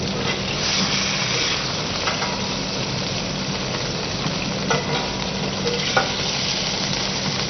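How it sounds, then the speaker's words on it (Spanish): Sliced onions and apples sauté in a braiser after chicken pieces were browned in it, a steady, close sizzle and frying hiss with occasional faint stirring knocks. "Dorar en el mismo recipiente cebollas émice y manzanas."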